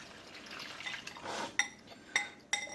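Seasoned gravy sauce for General Tso's chicken stirred in its container and poured into a hot pan, a soft liquid splash and swirl followed by three sharp clinks of a utensil against cookware, close and clear with no talk.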